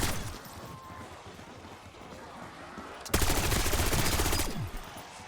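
Gunfire rattles through a Black Ops 6 Zombies match against manglers, starting as a busy spread of scattered shots, then jumping into a loud, dense burst of rapid automatic fire lasting over a second before easing back.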